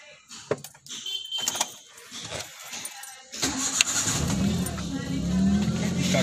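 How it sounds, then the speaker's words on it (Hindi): Keys jangle in a small Alto car, then the engine cranks and catches at about the midpoint and settles into a steady idle, with an instructor talking over it. "पूरा क्लच दबाओ, स्टार्ट करो इंजन।"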